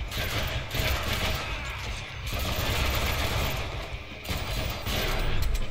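Dense, continuous bursts of gunfire in the Deadpool video game, rapid and loud, with brief dips between volleys and no talking.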